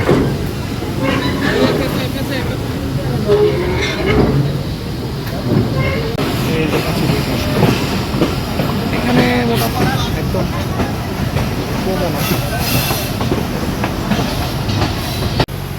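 The Nakshikantha Commuter, a local train running via the Padma Bridge, rolls along the rails with a loud, continuous rumble and rhythmic clatter, while voices talk over it.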